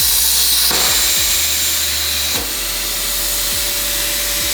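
A plasma cutter hisses loudly and steadily as it cuts a square from sheet metal on a salvaged Audi 90CS Quattro body panel, with a sustained roaring blast and a few low thumps, no talking.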